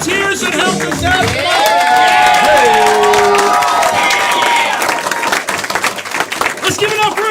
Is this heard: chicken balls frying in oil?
no